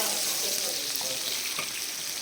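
A tempering sizzles steadily in hot oil as curry leaves are added, a close, dense hiss that stays even for a couple of seconds with no talking.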